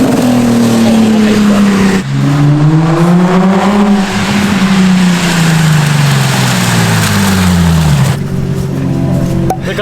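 Subaru STI engine rumbles loud and close, rising and falling through several long revs with a steady throaty drone, settling back to idle near the end.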